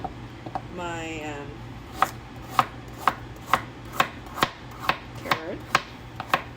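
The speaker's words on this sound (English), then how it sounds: "I'm just going to rough chop" A knife rough-chops carrots on a board for beef and barley soup, about a dozen sharp, evenly spaced close thuds after a brief voice at the start.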